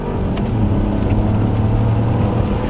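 A small turbocharged three-cylinder engine in a 2024 Chevrolet Trax hums steadily with a low drone and faint whir, holding a constant pull as it accelerates, no voices.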